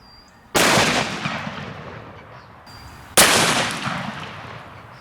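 Two loud, close gunshots from a 500 S&W Magnum striking a steel plate, each a sharp blast followed by a long ringing, echoing decay, spaced a few seconds apart.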